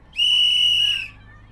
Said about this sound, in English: Coach Sarah blew her whistle softly.